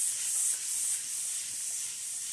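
Duck pieces stir-fried in a wok with Pixian chili bean paste and red chili oil, giving a steady, close sizzling hiss that stays level throughout with faint scraping underneath.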